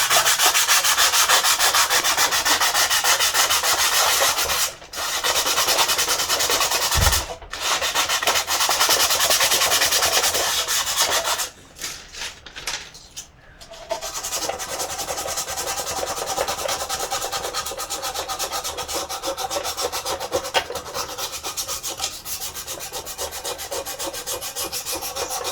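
Finer-grit sandpaper rubbed by hand over wood in long, continuous strokes, a close, steady scratchy hiss with a few brief pauses.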